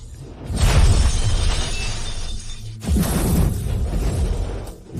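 Loud glass-like shattering and crashing bursts in a dramatic scene, one heavy break followed by a second surge of breaking debris, rumbling low and filling the whole stretch with no one talking.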